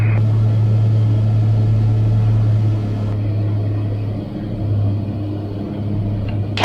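First commercial electric plane flying the airfield circuit at about 700 feet, a steady cabin hum and motor drone with a lower tone shift partway, continuous with no talk.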